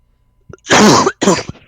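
A man on a gaming podcast with a tickle in his throat gives two harsh, close coughs in quick succession, the first longer and louder, after a short quiet lead-in.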